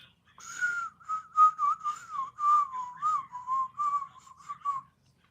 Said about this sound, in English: I've never been good at whistling